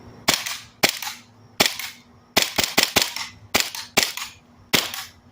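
A Staccato Perfect 11 airsoft gas pistol fires 11.25 tracer BBs in about nine sharp, loud shots, some in quick pairs and some spaced out, each one snapping close by with a short ringing tail.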